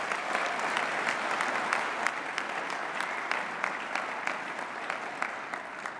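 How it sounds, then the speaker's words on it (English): Sustained audience applause at an athletics awards presentation, even crisp clapping from a sizeable crowd throughout, steady in level without speech. "How about a round of applause for him?"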